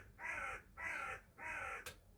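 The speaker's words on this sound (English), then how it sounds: "The crows have absolutely agreed." Three harsh crow caws sound one after another at an even pace, fairly close and clear, with a short click just after the last call.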